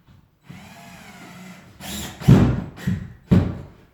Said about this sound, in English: put in a couple of screws right now, okay, into that wood